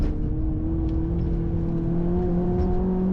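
A car on a wet race track during a heavy-rain track day, heard from onboard as a steady, loud engine drone with a constant hum and road noise throughout, no talking.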